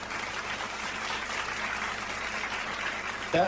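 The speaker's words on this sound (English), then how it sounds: "I'm gonna give you an applause here for that" Steady applause from a crowd, continuous and fairly loud, with no talking over it.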